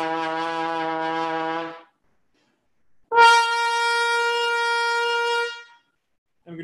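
A trumpet blasts a sustained, very loud note, falls silent for about a second, then hits an even louder open G or C held for over two seconds before cutting off, close and brassy with no voices.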